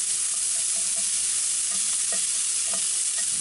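Sweet onions frying in a pan with shrimp and browned garlic, a steady close sizzle with occasional stirring scrapes and clicks throughout, no voices.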